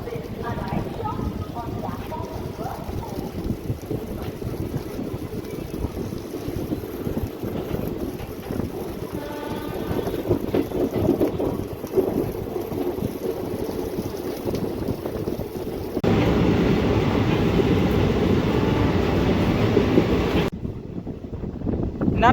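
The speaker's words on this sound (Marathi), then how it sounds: "Vande Bharat express overtake." Narsapur–Chennai Vande Bharat Express overtaking alongside an ICF-coach special train: a continuous rushing rumble with heavy wind buffeting, swelling louder late before cutting off abruptly.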